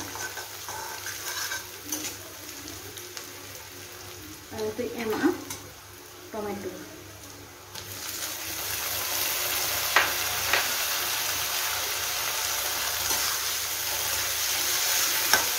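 Onions frying in a pan and being stirred, with soft scraping and a few clatters early on, then a louder, steady hissing sizzle for the second half.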